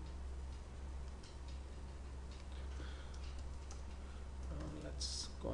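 Fingers type on a computer keyboard, a quiet run of small, close clicks and taps scattered irregularly over a faint steady background hum.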